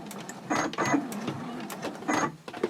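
A sewing machine runs in short bursts at a 2.6 stitch length while sewing around a purse interior, its stitching chatter starting and stopping with brief pauses between runs.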